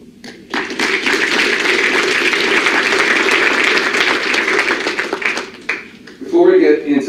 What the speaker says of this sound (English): you all deserve a round of applause for that